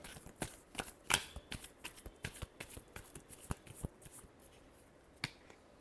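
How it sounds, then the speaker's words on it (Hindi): A deck of tarot cards being shuffled, with crisp, quiet snaps and flicks in irregular bursts, close by and alone with no speech. "Last shuffle."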